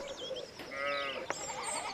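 Sheep bleat in the medieval video game Pentiment, a couple of wavering calls mixed with other farmyard animal sounds, close and moderately loud with no speech over them.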